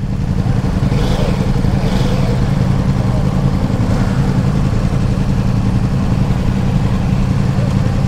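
Ducati Multistrada motorcycle ridden in sport mode on a demo ride, its engine a steady loud low rumble throughout with a faint wind rush above, no talk.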